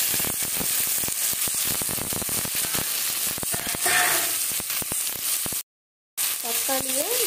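Tomatoes frying in a pan with onions and curry leaves, a steady close sizzle running throughout, briefly cut by a short silent gap, with stirring clatter and a faint voice.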